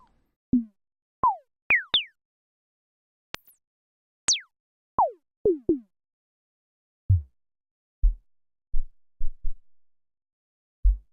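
A series of short synthetic drum hits from Korg Gadget, each with a quick downward pitch sweep from a filter envelope, the sweeps growing higher and brighter, then returning to dull low thumps.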